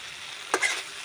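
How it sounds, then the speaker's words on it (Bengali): A wet spice paste sautés on low heat in a pan, a soft continuous sizzle broken by two short bursts of scraping as a spoon stirs it, close and without talk. "হালকা আঁচে এটাকে কষিয়ে নেব"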